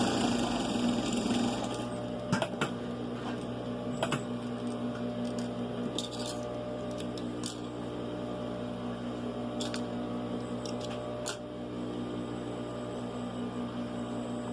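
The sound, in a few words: sewing machine stitching a side pocket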